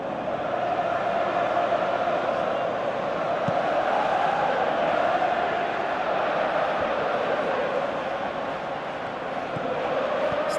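Stadium crowd noise from a PES 2018 football match, Arsenal versus Shakhtar in the Europa League group stage: a steady, dense roar of fans that holds at an even level throughout with no commentary over it.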